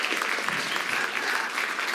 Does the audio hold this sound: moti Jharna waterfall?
no